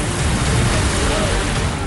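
Heavy rain falls in Darbhanga, Bihar, during days of flooding, a loud, dense, steady hiss of downpour that fills the short stretch with no break.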